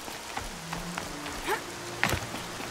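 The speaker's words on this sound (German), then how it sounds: "Warum regnet es jetzt auf einmal, ey?" Rain falls steadily in the open-world game Horizon Zero Dawn, a soft diffuse patter with a few sharper drop-like ticks and no voices.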